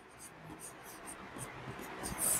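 A pen writes on paper while a Class 10 real-numbers math exercise is worked out, giving faint, soft scratching strokes in short repeated bursts close by, with quiet background.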